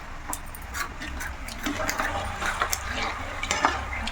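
Boondi fries in hot oil with a dense bubbling sizzle, stirred with scraping, clattering strokes in the pan, close and busy without talk.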